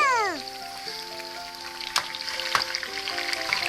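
A thick tomahawk steak sizzling hard in hot oil after being flipped, a steady crackling fry with a few sharp pops and clicks, loud and close, while faint tonal background music plays underneath.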